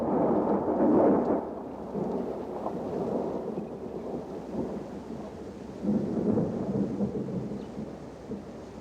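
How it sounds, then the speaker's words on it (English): Thunderstorm over the Luangwa Valley in Zambia during December's rainy season, with heavy rolling thunder rumbling loud and near, swelling twice, above a steady wash of rain and gusting wind. "Throughout December, the storms become more frequent."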